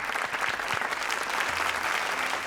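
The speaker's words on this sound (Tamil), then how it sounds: "உண்மையிலேயே இவருக்கு வந்து ஒரு பெரிய கைத்தட்டு கொடுக்கணும்." Studio audience on a television talk show breaks into loud, continuous applause, a dense wash of clapping filling the short stretch with no speech over it.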